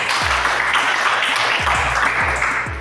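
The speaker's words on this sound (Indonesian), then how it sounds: "Tepuk tangan dulu untuk Julianto." Classroom applause for a student, a steady broadband wash of clapping with a few low thumps, loud and continuous, no clear talk.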